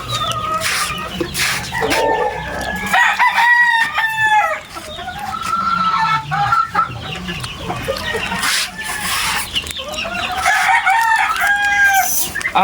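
Gamefowl roosters in a breeding pen, several crowing in turn with drawn-out cock-a-doodle-doo calls and scattered clucks, close and loud over a busy farmyard background.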